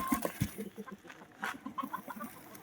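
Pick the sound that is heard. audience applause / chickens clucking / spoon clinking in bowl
chickens clucking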